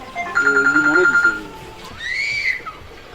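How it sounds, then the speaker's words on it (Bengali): A phone's electronic ringtone chirps in a quick, repeating tonal pattern for about a second, then a short rising tone follows, with people talking around it in a Sylheti comedy drama scene. "ফোন আইছে"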